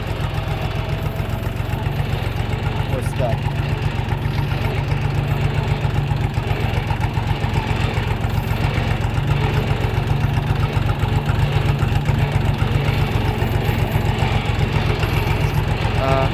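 A Kentavr 244SX Chinese mini tractor engine runs on a steep slope at about 800 rpm, a loud, steady diesel chug with an even rapid pulse throughout.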